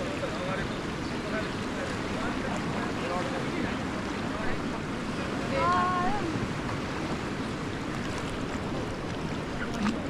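Rushing river water churns around a raft on the Tirsuli river, a steady loud roar with wind buffeting the microphone and a few faint voices and whistle-like tones mixed in.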